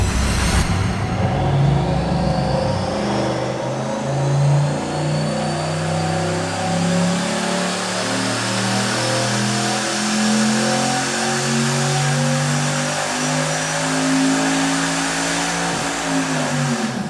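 A turbocharged LS V8 engine on a dyno revs in one long pull, its loud, close roar climbing steadily in pitch as it accelerates and then cutting off near the end.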